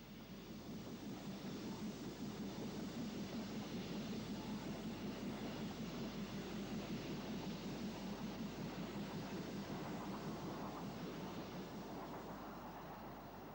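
Locomotive 34051 Winston Churchill hauls a rail tour train coming off the Reading line via Mortimer, a faint, steady, distant rumble that holds evenly throughout without any voices.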